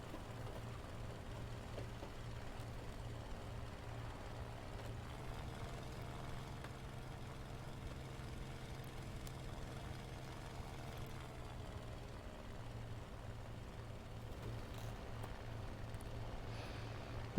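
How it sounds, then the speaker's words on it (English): A vehicle engine idles steadily in the War Thunder combat game, a low, faint, rumbling hum that drones on with a slight pulsing throughout, and no talking. "this engine I'm hearing is from that thing"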